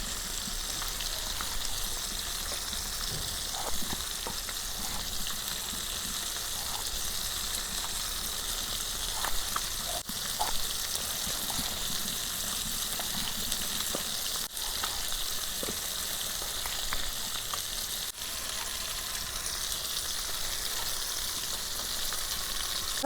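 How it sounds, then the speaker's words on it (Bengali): Rohu fish pieces fry in hot oil with a steady, dense sizzle and spatter that runs loud and unbroken for over twenty seconds, close up, with no talking. "আমার মাছ ভাজা হইতে থাক"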